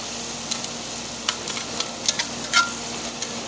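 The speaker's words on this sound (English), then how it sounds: "We're going to stir that around." Garlic and tomato sofrito stirred in a paella pan, with a low steady sizzle and scattered soft scrapes and clinks of the utensil over a constant faint hum.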